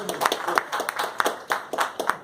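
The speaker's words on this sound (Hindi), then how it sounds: "इनके लिए एक बार तालियां हो जाए।" An audience claps in a steady, moderately paced run of hand claps, close and distinct, at a talk about earning money from a mobile app.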